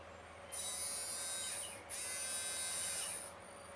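The original motor of a Polaroid SX-70 camera, wired straight to a 6 V battery, whirs on with a thin high whine, briefly dips, then runs again before stopping.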